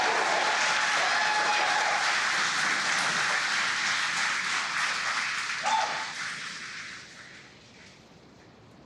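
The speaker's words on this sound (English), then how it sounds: "as you can hear the cheering in the background" A broad, roaring wash of distant crowd cheering and applause after a SpaceX Falcon 9 launch's stage separation swells steadily, then fades out toward the end.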